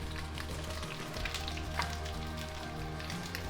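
Whitebait and dried bean curd stir-frying in a hot pan with black beans, soy sauce and chili pepper, giving a steady, close, dense sizzle and crackle throughout with no talking.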